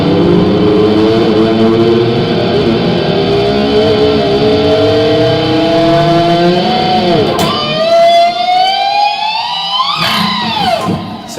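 An electric guitar mimics a revving motorbike, its sustained tones bending and gliding upward in pitch like an engine climbing through gears, loud and continuous with a sharp squealing rise near the end and no talking.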